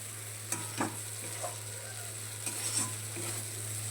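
Tomato-based egg curry simmers in a pan after water is added, giving a faint, steady sizzle broken by occasional light clinks of a utensil against the pan.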